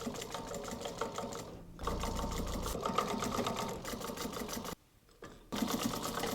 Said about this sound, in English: We always try and do a little prep work on the sewing machine to make sure that it runs as smoothly as it can.